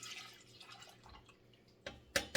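Beet juice drained from canned beets is poured from a measuring cup into a saucepan, a soft trickling splash with a few small clinks and drips near the end, fairly quiet and with no voices.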